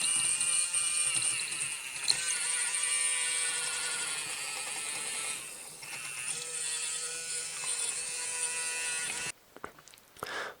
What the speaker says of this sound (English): So that's the motor in place, so we can just power it up now and have a look.